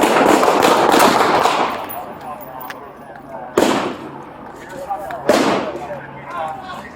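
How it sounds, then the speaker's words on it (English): Gunshots fired during a police officer-involved shooting, a loud sharp report followed by two more distinct cracks at spaced intervals, each with a decaying echo, amid shouted voices. "Shots fired!"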